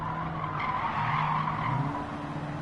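Toyota Prius tires skidding in a racing game, a continuous squealing screech layered over a steady engine drone, held at a constant loud level throughout.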